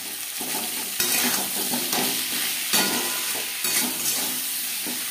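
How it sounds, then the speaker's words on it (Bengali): Potatoes with salt and turmeric stirred in a hot frying pan, a steady close sizzle with scraping stir strokes and louder bursts as the pieces are turned. "লবণ হলুদ আলুর সাথে বেশ ভালো করে মিক্স করে দেবো"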